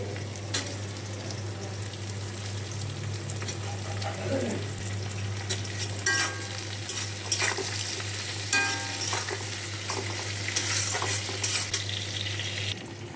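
Chopped capsicum is added to onions frying in a pan, giving a constant close sizzle broken by repeated scraping stirs and clatters of the spoon, with faint sounds of running water in between.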